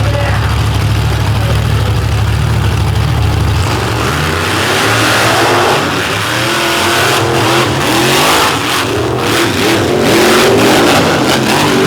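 Mega truck engine revving hard for a drag strip launch in the low lane at a monsters and megas event, a loud continuous roar that climbs in pitch as the truck pulls away, with crowd and track noise behind it.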